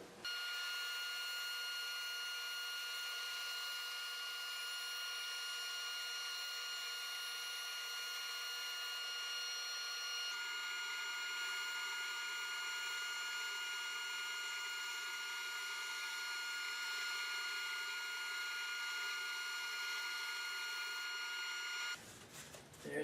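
A saw slices a 36-inch walnut board into a strip a few thousandths of an inch thick, giving a steady, loud whine and hum that runs continuously, then stops abruptly near the end.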